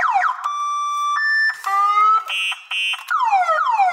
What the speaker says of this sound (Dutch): Hier een toetertje.